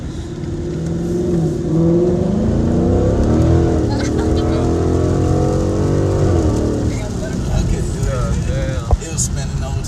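Engine of a 2019 Mustang GT with a six-speed gearbox, droning steadily at low revs from inside the car as it cruises, with a loud constant rumble and people talking over it.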